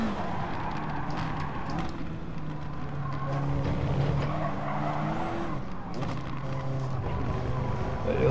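Racing game audio of a Gr.4 Audi TT race car at Lago Maggiore in GT Sport, a steady loud engine drone with shifting pitch and intermittent tire squeal throughout.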